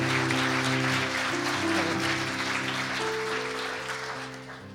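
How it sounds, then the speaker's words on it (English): Applause from a Sunday service congregation at a church gala, a sustained wash of clapping that stays even then slowly fades, with held organ or keyboard tones underneath. "Just stand up and we'll give you applause as well."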